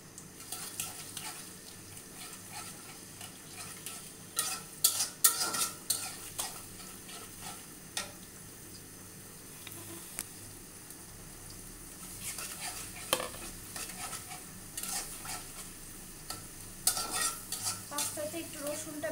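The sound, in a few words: ingredients sizzling in hot oil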